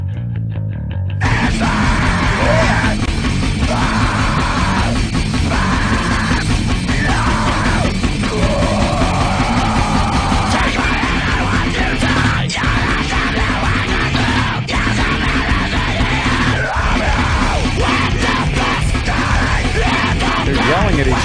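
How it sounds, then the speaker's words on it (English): Several people yell loudly and continuously in a played recording by a rock band, dense with distorted music and shouting over the whole stretch. "They're yelling at each other."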